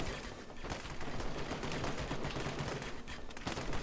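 Machine gun emplacements in the battle game Call to Arms, Apocalypse 2066 Port Siege, fire continuous dense bursts under a busy wash of battle noise.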